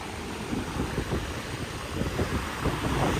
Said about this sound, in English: The wind speed, it says it's 8 miles per hour. It feels a little faster than that.